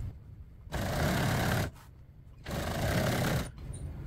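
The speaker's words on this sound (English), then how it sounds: "Okay, let's sew it up." A sewing machine stitches vinyl for a car's landau top in two sustained runs of steady whirring, close and loud, separated by short pauses.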